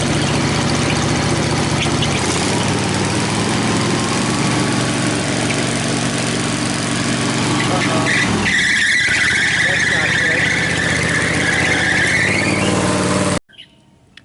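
A Cub Cadet RZT50 zero-turn mower engine idles steadily up close, and partway through a sharp, high squeal joins the low running drone and holds for several seconds before everything cuts off abruptly.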